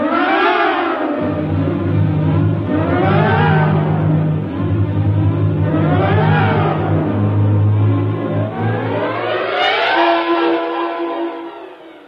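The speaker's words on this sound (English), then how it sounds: "Somehow the engine coughed and spit us back to the station." Spaceship capsule engine running as a radio drama effect, a loud sustained mechanical drone with slow rising and falling waves and a steady low hum, closing with a brief higher tone, no talk.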